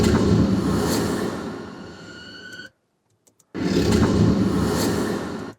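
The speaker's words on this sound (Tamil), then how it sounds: "இந்த ஊஷ் லேயர்ஸ் எல்லாம் போடுறேன்னா" Layered whoosh sound effects built for a film scene roar as broad, loud rushing noise. A sudden near-silent gap with a couple of small clicks splits it before the roar returns.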